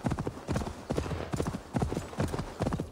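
Horse hooves galloping in Assassin's Creed Valhalla, a steady rapid clip-clop beat in repeating bursts, close and fairly loud with no talk over it.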